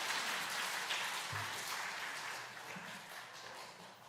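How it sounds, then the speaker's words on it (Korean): Steady clapping from a church congregation, dense and continuous, holding at a fairly even level for a few seconds before easing slightly. "우리 박수 한번 주세요"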